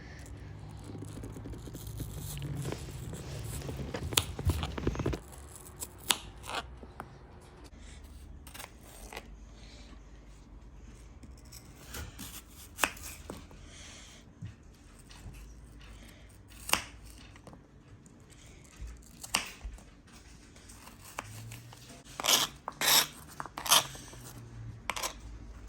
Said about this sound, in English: Now I am going to cut it into smaller pieces.